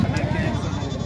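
A goat bleats at a busy livestock market in Mungeli, Chhattisgarh, its loud wavering cry rising over a dense crowd hubbub and people talking nearby.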